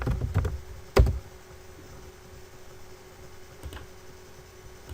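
Several quick keystrokes on a computer keyboard while drafting in AutoCAD, a short cluster at first, one sharper key press, then a faint tap near the end over quiet room noise.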